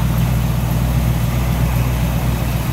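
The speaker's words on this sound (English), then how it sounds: "See how smooth that engine is." A 1960 Chevrolet Bel Air Bubble Top Sport Coupe engine idles steadily and smoothly up close, a loud, even low rumble with no variation and no voices.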